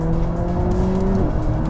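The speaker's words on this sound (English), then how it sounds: "The engine does a great impression of being a big V8, but there is a little bit of lag off the bottom." A 2017 McLaren 570S sports car drives hard through corners, its engine droning loud and close with a steady throaty note that shifts pitch as it pulls, with no talking over it.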